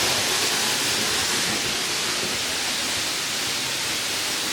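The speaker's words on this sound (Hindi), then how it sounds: "पूरे पहाड़ों का पानी रिस रिस कर यहाँ पर बह रहा है।" Water seeping down from the hills flows steadily over a small stop dam near Tamia, a loud, continuous broadband rush with no break and no voices.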